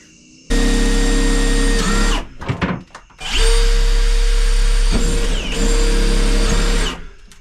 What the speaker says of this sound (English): So now, what we're going to do, we need to drill.